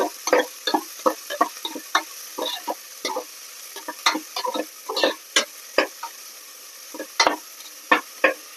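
Urad dal and dried red chillies frying in a pan with oil, crisp irregular crackles and pops of sizzling up close with stirring, no talk.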